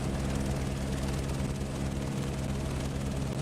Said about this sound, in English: It's amazing we can still hear the helicopter like that well.